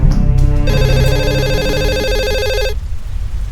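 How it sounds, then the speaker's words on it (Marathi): A phone ringtone chimes loudly for a couple of seconds, a bright repeating electronic tone that stops abruptly. "फोन आला"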